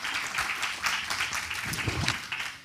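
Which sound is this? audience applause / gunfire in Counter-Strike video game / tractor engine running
audience applause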